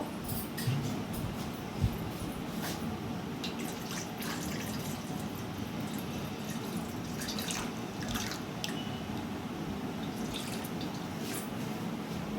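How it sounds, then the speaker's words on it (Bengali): Water trickles and drips into a pot set up for steaming hilsa fish in a tiffin box, a faint, continuous splashing with scattered small drips throughout. "আর একটু জল দিয়ে নেব।"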